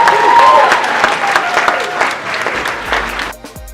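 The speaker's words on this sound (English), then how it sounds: "Give a round of applause" A crowd bursts into loud, dense applause after a motivational speech, the clapping strong at first and thinning out before cutting off near the end, with some voices mixed in.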